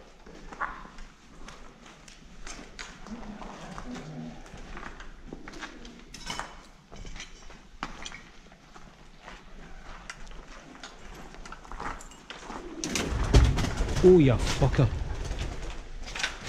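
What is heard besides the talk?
pigeons cooing in abandoned building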